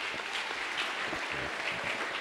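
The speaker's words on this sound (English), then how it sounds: "clap for Jesus." A congregation clapping during a Sunday church service, a soft, diffuse, continuous patter of many hands at a distance, steady throughout.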